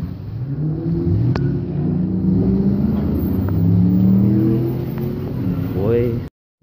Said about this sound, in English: I think they're drag racing.